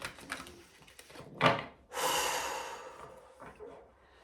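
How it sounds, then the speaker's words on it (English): Deep breaths and loud exhales like blowing out candles, heard close and quiet: a few short sniffing inhales, then a sharp forceful breath out and a long, sustained rushing exhale that slowly fades. "fill your lungs up all the way with some deep breaths and some loud exhales like you're blowing out candles"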